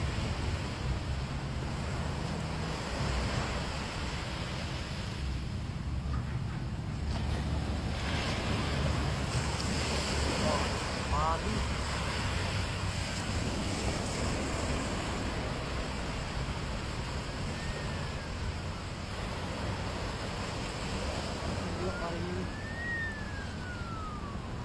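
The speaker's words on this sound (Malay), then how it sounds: "ini ombak deh nih" Ocean waves roll in at a beach in Tanjung Lipat, a constant loud surf roar with heavy low rumble and wind buffeting the microphone, continuing throughout.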